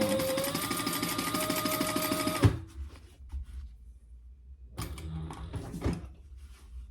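A sewing machine stitches a slip pocket for a phone crossbody bag in a fast, even rhythm that stops abruptly, followed by quieter clunks and a brief rattling burst of handling.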